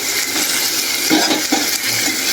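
Ingredients are tipped into a pan of hot oil tempering and stirred, giving a steady, loud sizzle with a few scrapes and light metallic clinks, and no voices.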